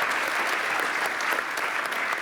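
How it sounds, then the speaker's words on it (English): Steady applause from a panel discussion audience at an internet technology conference, a dense even patter of many hands clapping that holds at the same level throughout. "Big applause maybe for that"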